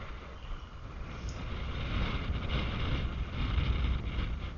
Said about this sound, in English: How do you like that wind, guys? Holy smokes, is it ever blowing.